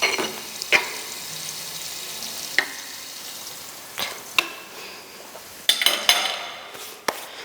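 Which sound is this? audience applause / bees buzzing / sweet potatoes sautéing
sweet potatoes sautéing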